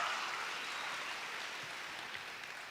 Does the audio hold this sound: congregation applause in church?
yes